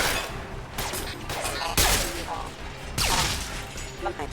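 Pistol gunfire in Mass Effect 2, with several sharp broadband shots at intervals over a busy game soundscape.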